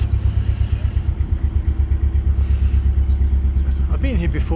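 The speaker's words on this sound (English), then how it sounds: "Let's open the throttle just a little" A canal boat's engine with the throttle opened slightly, a steady low, loud thumping chug with regular pulsing beats, and a voice speaks briefly near the end.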